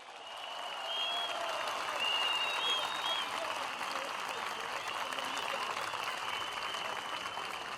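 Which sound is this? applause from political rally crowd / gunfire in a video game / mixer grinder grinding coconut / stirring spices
applause from political rally crowd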